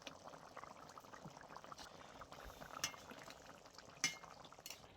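A pot of koi fish curry simmers at a quiet, steady bubble, with occasional faint clinks of utensils against the pot.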